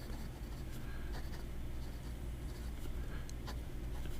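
A Majohn fountain pen with a brand-new medium nib writes on paper, soft scratchy strokes and small taps close up over a steady low background rumble.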